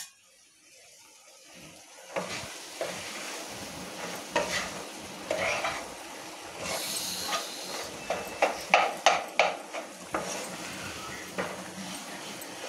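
Potato pieces get stirred into masala in a pan with a run of scraping, clacking spoon strokes over a low sizzle, the strokes quickening into a rhythmic series near the end, no talking.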